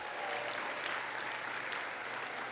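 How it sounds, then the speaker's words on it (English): An audience applauds at an awards show, with steady, dense clapping held at an even level throughout, a little distant and without standout claps. "Cue the applause."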